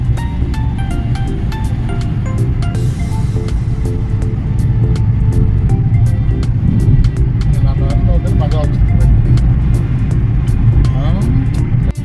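A car climbing the Srisailam ghat road, a loud steady engine and road rumble with wind buffeting throughout, while a person talks over it.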